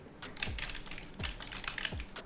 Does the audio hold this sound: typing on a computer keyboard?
yes